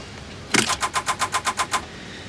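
An old car engine in a TV drama sputters out in a rapid, even run of about ten sharp popping bursts that then stop abruptly, loud and close, with no voices.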